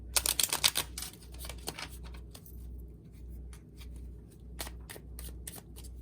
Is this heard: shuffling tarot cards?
yes